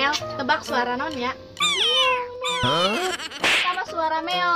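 A cat meows several times in a row, close and fairly loud, with wavering, rising and falling cries and a brief breathy hiss near the end.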